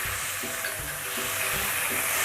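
Pork liver stir-fries with oyster sauce, light soy sauce and fish sauce in a pan, a loud, continuous wet sizzle with rhythmic scraping strokes of the spatula pulsing underneath.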